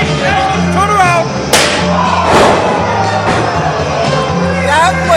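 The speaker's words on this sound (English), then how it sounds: "I've never heard a chair shot so loud in my life" A steel chair crashes onto a wrestler during a live pro wrestling show, a sharp loud thump that rings out over a shouting, whooping crowd, with a second heavy impact following and voices calling out around it.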